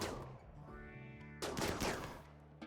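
Gunshots in the colony game RimWorld, a couple of sharp cracks over quiet background music, the clearest burst landing about halfway through.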